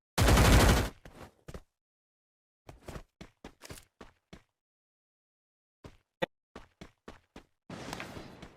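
Bursts of gunfire ring out in a Free Fire World Series 2021 match, with a loud opening blast, then scattered short volleys of single shots separated by silences, closing on another sustained burst.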